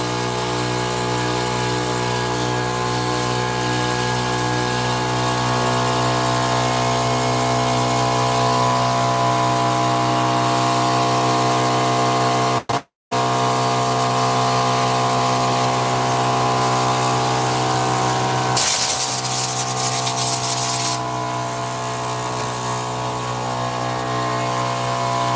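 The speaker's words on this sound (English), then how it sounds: "Sorry, that's my air compressor." Air compressor motor running steadily at a loud, constant level in a blade sharpening shop, with a brief cutout near the middle and a burst of hissing air toward the end.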